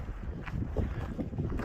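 Gusty wind buffets the microphone during a walk along a road on the Arizona Trail, a continuous low rumble with rising and falling surges and no other clear sound.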